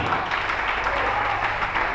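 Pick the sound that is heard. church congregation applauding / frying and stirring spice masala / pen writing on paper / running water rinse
church congregation applauding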